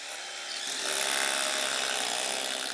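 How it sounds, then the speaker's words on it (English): A loud, steady grinding hammer drill whine runs continuously after a brief quieter lead-in, harsh and close, boring into a concrete floor to fix a base rail in a garage. "you just saw the lads drilling into the concrete this base rail"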